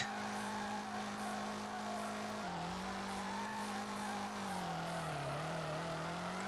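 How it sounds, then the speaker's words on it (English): A Lada rally car in the FR Legends racing game slides and drifts, its engine droning steadily at high revs with a continuous tire squeal that dips and rises in pitch, loud and unbroken, with no talk. "Got the rally car out here sliding with the drift cars."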